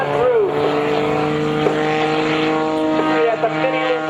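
A propeller engine on an aerobatic airplane drones loudly and steadily at an airshow, its pitch sliding as the plane manoeuvres, with an announcer's voice running over it.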